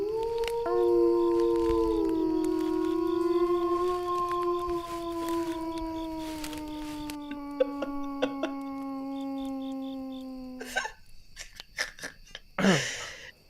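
Voices imitate a drawn-out wolf howl, several people holding long wavering tones that slide downward together for about ten seconds, followed by scattered laughter and clatter close to the microphone.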